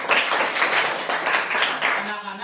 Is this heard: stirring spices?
no